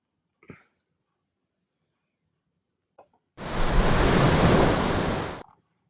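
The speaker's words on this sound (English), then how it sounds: "the sound of waves crashing against a large rock, the ocean" A generated effect of ocean waves crashing on a large rock: one loud, broad burst of surf-like noise lasting about two seconds, preceded by a couple of faint short sounds.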